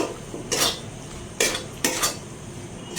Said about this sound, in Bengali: এইবারে গ্যাসের ফ্লেমটা একদম মিডিয়ামে রেখে আমি নাড়াচাড়া করে নিচ্ছি